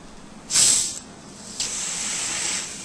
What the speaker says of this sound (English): We heard a little sound of CO2 gas leaving the container.